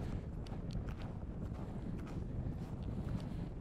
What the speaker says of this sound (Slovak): Na hrebení máme perfektné zimné podmienky, mrznúca hmla, vietor